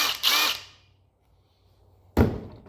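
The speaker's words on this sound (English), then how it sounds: "Impact driver." A borrowed impact driver, used on seized nuts while restoring a 1938–39 Ford truck, gives two short, loud bursts close by with a silent gap between them.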